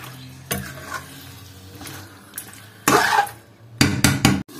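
Lamb cooks in a pan under a low steady sizzle, broken by sharp bursts of a utensil scraping and clanking against the metal as the meat is stirred, loudest in a cluster of quick knocks near the end.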